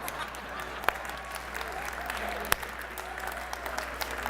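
Church congregation clapping during a worship service, sparse scattered claps with a couple of sharp louder hits over a quiet room hum, with faint voices in the background.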